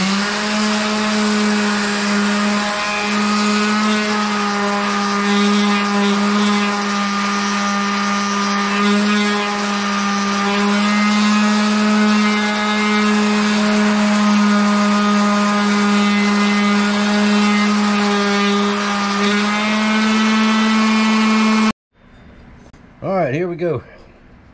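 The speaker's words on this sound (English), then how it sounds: "then we will grind the bevel" A loud, steady, high motor whine from a grinder grinding a knife bevel drones for over twenty seconds, then cuts off abruptly, and a brief voice follows.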